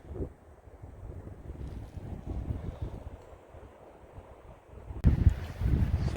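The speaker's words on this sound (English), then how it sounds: "Sorry for the wind" Gusts buffet the microphone at a trail campsite in Oregon, a dense low rumble that rises and falls for several seconds, then a sudden louder blast near the end, with no voices.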